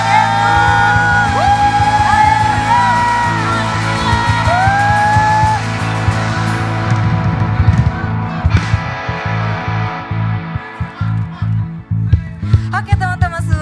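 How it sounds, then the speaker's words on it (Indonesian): A church congregation cheers and whoops after worship singing, loud shouts and yells rising over a sustained band chord, with scattered clapping and voices continuing to the end. "sama-sama beri tepuk tangan bagi Tuhan Yesus."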